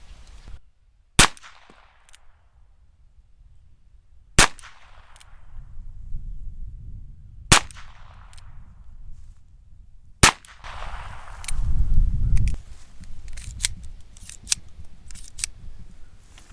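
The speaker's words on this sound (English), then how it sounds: "Loading and unloading." Metallic clicks and snaps from a Ruger Wrangler revolver cylinder being loaded and unloaded, a few sharp isolated clacks spaced seconds apart, then a busier cluster of quicker clicks and rattles near the end.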